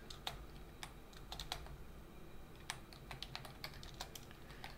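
Typing on a computer keyboard to enter a terminal command, quiet scattered keystrokes in irregular bursts over a low steady hum, no talking.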